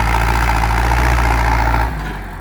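A farm tractor engine runs with a steady, loud, low drone close by, then dips a little in level just before the end.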